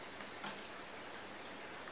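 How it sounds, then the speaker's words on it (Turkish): Light rain falls steadily outdoors as a soft, even broadband hiss, close and fairly quiet, with no voices over it. "Yağmur başladı yine."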